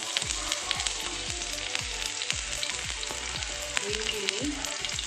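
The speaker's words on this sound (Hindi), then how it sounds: "ऑयल गर्म हो गया है, मैं इसमें ऑनियन डालूँगी," Onion frying in four tablespoons of hot white oil in a pan for egg keema gravy, a loud, dense sizzle with rhythmic stirring thumps and crackles throughout.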